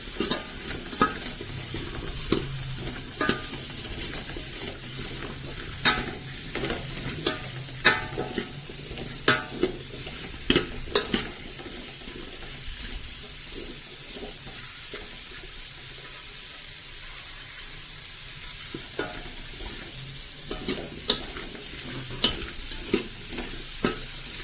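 Radish pieces fry in hot oil for Karnataka-style sambar, a continuous close sizzle broken by frequent scraping stirs of the spoon against the pan, with a faint background trickle of water.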